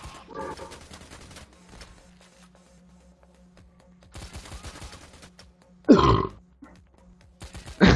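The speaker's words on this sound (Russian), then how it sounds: "Рыгнул. Я не чихаю." A man's burp, a short loud blast standing out near the middle, followed by another abrupt burst at the end, amid quieter game sounds and gunfire during a multiplayer heist game.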